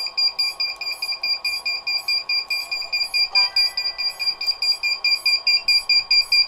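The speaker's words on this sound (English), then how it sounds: "Now I can shut off the beeper." An electronic beeper alarm on a 3D printer sounds alone in a fast, steady run of loud, shrill pulsing beeps that repeats for the whole stretch.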